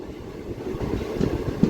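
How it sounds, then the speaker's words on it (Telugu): The 58506 fast passenger train stands at Sigadam railway station, giving a low rumbling drone with faint clanks and a couple of sharper knocks. "సిగడం రైల్వే స్టేషన్కి వచ్చాము, బయలుదేరిపోతాం కూడాను"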